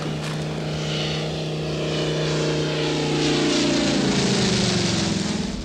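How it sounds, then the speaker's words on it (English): A propeller airplane drones loudly and steadily nearby, its engine hum rising slightly as it continues without any voices. "Hey, this is some piece of plane, Titus."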